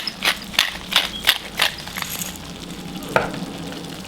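Small shrimp seasoned with salt and pepper being mixed in a bowl, with a series of wet scraping stirs in a steady rhythm up close, tapering off into a couple of faint later scrapes.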